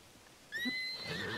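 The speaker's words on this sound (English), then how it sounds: "I want to get this horsey right here." A horse in the video game Zelda: Tears of the Kingdom gives a single short, faint whinny that rises and then trails off, heard alone with no speech.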